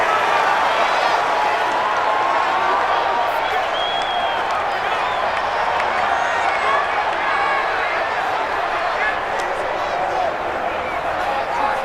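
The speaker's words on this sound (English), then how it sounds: "the crowd getting into it as we come up on a big third down" A packed stadium crowd in Madden NFL 20 roars continuously and loudly at an Eagles versus Cowboys game, a dense sustained cheer with scattered whistles and shouts throughout.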